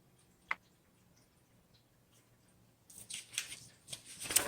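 Keys strike on a 1960s Smith Corona Coronet electric typewriter: a single sharp click in near silence, then a quick cluster of crisp mechanical taps and clacks close by.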